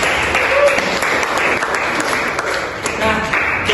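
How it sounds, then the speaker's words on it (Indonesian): Classroom applause during a microteaching lesson, a steady wash of clapping from students that holds for several seconds at moderate loudness, with faint voices underneath. "Berikan tepuk tangan."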